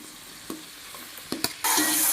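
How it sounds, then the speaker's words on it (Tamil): Tomatoes are stirred and sautéed in a pan for tomato rice, with a few scraping stirs over a low simmer that give way to a loud, steady sizzle. "தக்காளியை போட்டு ஒரு 10 நிமிஷம் நல்லா வதக்கிடுங்க."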